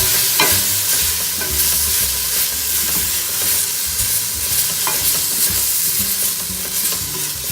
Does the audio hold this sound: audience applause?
no